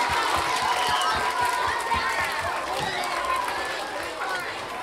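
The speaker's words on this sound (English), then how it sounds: "let's give all of our participants a big round of applause" Audience at a school spring concert breaking into applause, dense crowd clapping with cheering and chatter mixed in, sustained throughout and gradually easing off.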